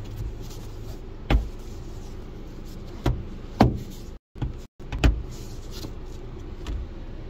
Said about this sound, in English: now as I open up a door